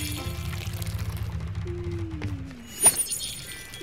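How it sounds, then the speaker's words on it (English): Water pours over carrots in the farming video game Spiritfarer, a soft liquid splash under a gentle, sustained musical tone, with a brief brighter splash near the end. "let's water my carrots"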